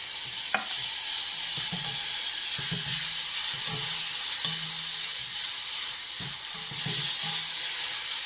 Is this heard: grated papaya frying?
yes